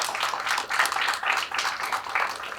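Audience applause for a Parks and Recreation team at a community investment announcement, a steady patter of hand claps from a moderate-sized crowd, fairly close and even throughout.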